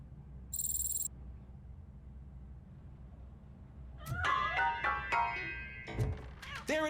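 Cat in RoboCop: Rogue City giving several short, clear meows in a quick cluster after a few seconds of quiet ambience, close and fairly loud, with a brief high chirp early on.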